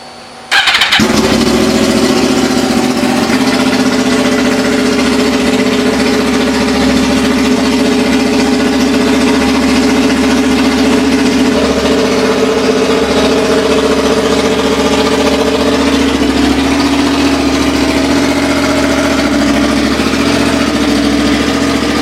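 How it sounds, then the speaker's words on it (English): A motorcycle engine, back running after its regulator and rectifier were replaced, cranks briefly and fires up, then settles into a loud, steady idle close by for about twenty seconds, with a slight shift in tone midway. "So swap that out, and now the bike fires right up."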